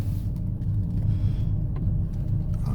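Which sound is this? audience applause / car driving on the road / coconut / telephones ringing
car driving on the road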